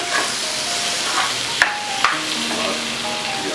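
Sliced tomatoes and cashews fry in a pan with a steady close sizzle, broken by a couple of sharp clicks of a utensil stirring against the metal.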